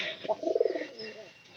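White pigeons cooing close by, a few soft throaty coos bunched in the middle of a short quiet stretch with no talking.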